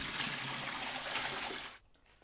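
Sanitiser solution pours out of an opened Pinter brewing keg in a steady, hissing splash for under two seconds, then stops abruptly, close and fairly quiet, with no talking.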